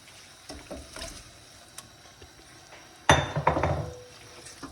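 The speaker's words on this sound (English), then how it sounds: "Now we add the salmon." Large fresh salmon chunks dropped into sofrito in a pan, starting as faint knocks and scrapes, then a burst of louder clattering and sizzling about two-thirds of the way through, close and moderately loud.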